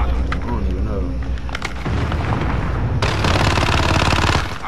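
Rapid automatic gunfire in Call of Duty Modern Warfare, loud and continuous bursts with a dense rattling stretch near the end, under a game soundtrack and a speaking voice.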